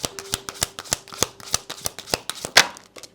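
A deck of tarot cards being shuffled up close: a rapid series of crisp, papery slaps and flicks in an uneven rhythm, with a louder burst of riffling near the end, heard alone without talk.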